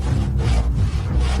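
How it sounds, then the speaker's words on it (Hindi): A hand saw cutting through wood in steady back-and-forth strokes, about four rasping passes in under two seconds, loud and close with no voices. "आरी से लकड़ी काटे जा रहा था।"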